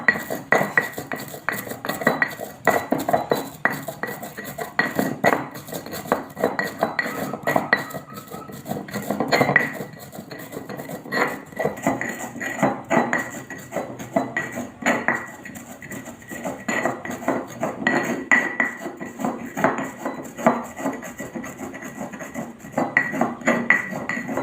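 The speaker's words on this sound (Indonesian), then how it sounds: "setelah tadi garam ketumbar sudah digerus, sudah diulek" Salt and coriander seed being ground in a mortar with a pestle, a dense run of hard, rapid knocks and grinding scrapes that goes on steadily and close with no pauses.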